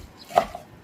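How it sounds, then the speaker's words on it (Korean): A knife chops through washed seaweed on a cutting board, a single crisp thunk close by against a quiet background. "자, 미역도 크지 않게 썰어 줍니다."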